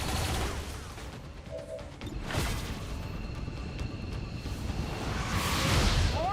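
Weapon fire in the video game XCOM 2, a rapid fusillade of gunshots with whooshes and impacts over a dense, noisy battle background, loud and continuous without speech.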